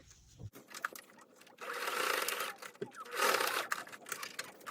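Sewing machine stitching across a piece of trim, running in two buzzing bursts of rapid needle rattle separated by a brief pause, close but fairly quiet with no talking.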